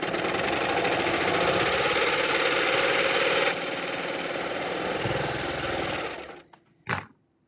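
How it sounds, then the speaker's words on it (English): A serger sewing machine runs steadily, stitching a three-thread overlock with a fast, even mechanical hum that shifts slightly midway, then winds down and stops, followed by a brief clunk. "So I'm going to just stitch this out."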